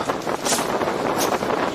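Gusty seaside wind in Rustington, by a rough sea, blasts across the mic in loud, uneven surges of rushing noise, pulsing a few times within a short, unbroken span.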